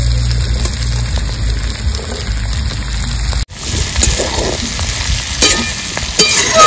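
Chopped water lilies (shapla) and prawns fry in a hot pan, giving a loud, continuous sizzle with scraping stirring noises. A brief gap falls midway before the sizzling picks up again.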